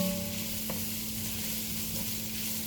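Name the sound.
stirring vegetables frying in a pan for bolognese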